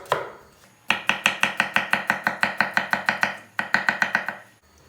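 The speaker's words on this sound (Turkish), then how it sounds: "Hemen soğanı doğrayacağız." A knife chops an onion on a cutting board in a quick, even run of about fifteen sharp strikes, a short pause, then another fast burst, close and clear.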